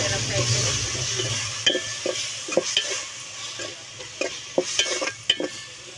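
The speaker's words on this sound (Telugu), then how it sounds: "దీన్ని కూడా ఒకసారి ఇలా ఫ్రై చేసుకుంటున్నాను." Coriander and clove masala paste frying in a pot over a wood-fire stove, with a steady sizzle broken by repeated sharp clicks and scrapes of a spoon stirring against the pan, close and clear, with no talking.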